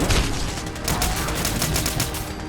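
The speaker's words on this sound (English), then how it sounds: "Test 4, ECM Pistol versus Gator Claw." An ECM pistol fires in the video game Fallout 4 during a battle, with rapid, dense bursts of shots crackling continuously and loudly throughout, with no talking.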